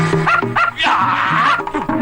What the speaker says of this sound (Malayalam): പട്ടി പട്ടി